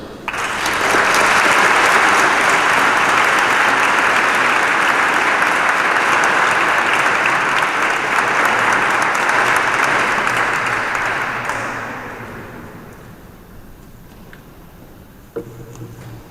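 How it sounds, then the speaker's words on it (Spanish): Loud, sustained applause from a large audience in a parish church, steady for about eleven seconds before tapering off into quiet room noise. "vamos a recibirle con un fuerte aplauso"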